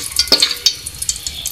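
A spoon scrapes and stirs whole spices like cinnamon and small cardamom in a cooking pot, giving close, light clinks and a soft sizzle in short irregular strokes.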